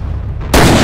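Machine gun fire in the video game Commandos Strike Force, a sudden loud burst of broadband gunfire cutting in halfway through over a low rumbling game backdrop.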